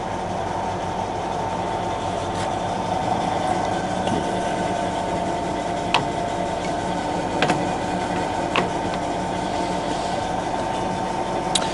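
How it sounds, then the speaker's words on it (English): A used Colchester Bantam 2000 centre lathe with DRO runs with its carriage travelling slowly under power feed, giving a steady, even motor hum with a few faint ticks and clicks, close by and with no talking. "So that's the carriage going that way very slowly"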